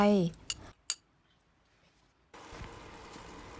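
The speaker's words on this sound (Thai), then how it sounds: "ผัดพริกแกงกับกะทิให้หอมก่อนค่ะ" Red curry paste and a little coconut milk are stir-fried in a pot for a Thai green-banana curry: two sharp metal utensil clinks against the pot, a quiet pause, then a soft steady frying hiss.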